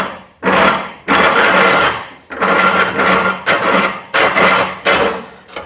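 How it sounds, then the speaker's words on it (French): A hand saw cuts through a red-sheathed braided brake hose in a run of loud, close, rasping strokes, about six bursts separated by short pauses. "je le fais généralement à la scie"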